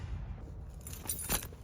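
Two keys for a diesel truck jangle briefly in a hand, a short, bright metallic clinking close by over a low background rumble.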